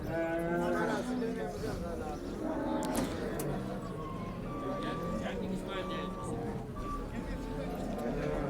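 Cattle, including sacrificial calves, mooing and lowing at a busy livestock market in Çubuk, Ankara, several animals calling over a steady crowd murmur and background chatter.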